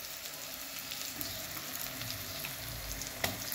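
Curry leaves and turmeric frying in a pan give a continuous dense crackling sizzle, close and fairly loud, with one brief sharper clatter near the end and no voices.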